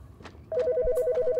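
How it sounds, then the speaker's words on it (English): Telephone ringing in a horror video game: a steady, repeating electronic ring pulses loud and close, starting abruptly partway in after a brief muffled stretch. "Another phone call."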